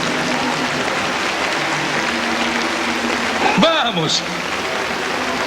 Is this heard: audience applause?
yes